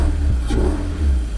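A 1991 Toyota MR2 found abandoned in a barn has its engine catching and running: a brief starter clatter, then a steady mid-pitched idle rumble, close and fairly loud.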